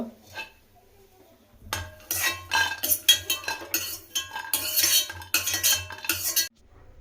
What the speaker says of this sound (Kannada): ಇದನ್ನು ನಾನು ಸೈಡ್ಗೆ ಎತ್ತಿಟ್ಕೊಳ್ತೀನಿ ಒಂದು ಪ್ಲೇಟ್ಗೆ ಹಾಕ್ಕೊಂಡು